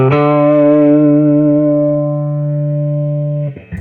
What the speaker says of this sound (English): So this is the GFI phaser.